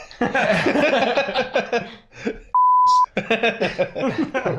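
A single flat electronic beep cuts in for about half a second between stretches of lively talk and laughter.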